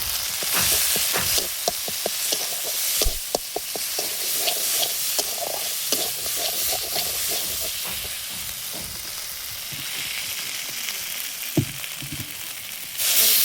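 Green chillies fry in hot oil in a pan, a steady loud sizzle with scattered sharp pops and crackles throughout, ending in a sudden louder hiss.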